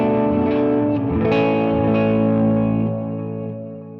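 Big clean electric guitar chords played through a Browne Amplification Protein V3 pedal with delay and reverb, ringing out loud and sustained, with the last chord decaying into a long wet tail.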